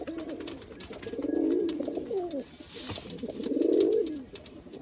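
Malwai pigeons coo in repeated rolling bursts, close and fairly loud, with two longer swelling phrases separated by shorter calls.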